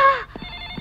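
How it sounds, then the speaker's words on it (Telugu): A telephone ringing in a film scene, one short electronic ring tone that cuts off, followed by quiet low sounds. "అదిగో డాడీ ఫోన్ చేసినట్టున్నాడు"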